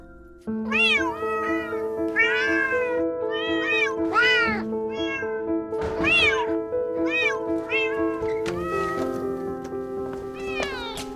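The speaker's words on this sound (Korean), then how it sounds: "I am going crazy because your cats are too loud." Many cats on a cat farm meow and yowl in overlapping, repeated cries, some near and loud, others softer, with a steady tonal hum running underneath throughout.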